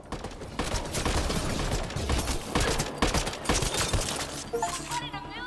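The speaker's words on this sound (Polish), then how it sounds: "Celny strzał" Rapid automatic gunfire in the Mass Effect Andromeda video game, loud sustained bursts of shots with mechanical clatter, dropping off near the end as in-game voices and effects come through.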